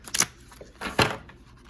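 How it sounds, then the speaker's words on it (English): A tarot deck is shuffled by hand in a few quick, papery riffles and flutters, close and fairly quiet with no talk. "As I completely flub on shuffling those cards."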